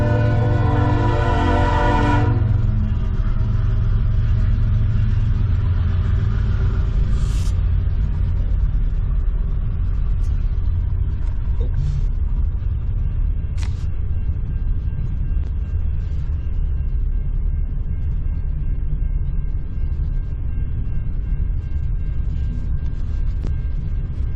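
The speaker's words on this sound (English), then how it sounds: "There's the train." A long, loud, continuous rumble of a train rolling past nearby, opening with a brief horn-like tone and then steady rolling noise throughout.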